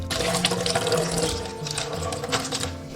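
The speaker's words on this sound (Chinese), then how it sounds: "先给它清洗干净。" Soaked glutinous rice is rinsed by hand in water for a steamed pork-belly dish, with continuous close splashing, swishing and grainy rustling and no voices.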